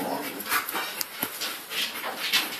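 German Shepherd and Rottweiler dogs playing together, with soft panting, faint whimpers and scattered scuffling and thumps spread across a couple of seconds.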